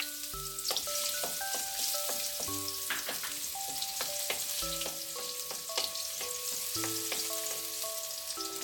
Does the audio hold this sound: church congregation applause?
no